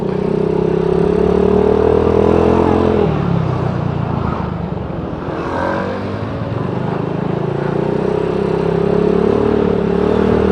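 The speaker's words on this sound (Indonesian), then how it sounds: "Pakai motor Matic langka" A Yamaha Nuvo Jet automatic scooter engine hums loudly and steadily while riding, its pitch easing down and then rising again as it slows and accelerates.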